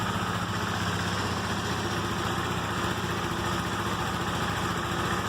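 A KTM RC390 single-cylinder motorcycle engine idles steadily and close by, a constant rapid putter with no talk over it.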